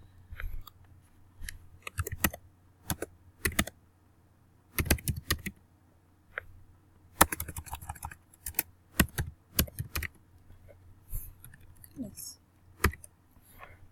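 Computer keyboard typing, heard as scattered bursts of crisp key clicks with short pauses between runs, close and fairly quiet, with no other sounds in the background.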